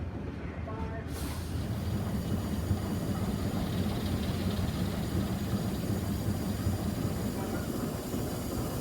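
Freight train working a rail siding with the locomotive rumbling low and steady, a continuous heavy drone that stays fairly near throughout.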